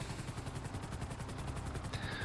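Helicopter flying in Grand Theft Auto V, a fast rhythmic rotor chop with steady, even beats and a dense low rumble, moderately loud and continuous with no speech.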